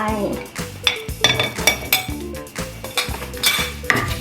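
A pestle circles and scrapes around a mortar holding chili and garlic for a Thai pork laab and cucumber salad, giving uneven ceramic clinks and knocks in quick bursts, close up, with a voice talking over it.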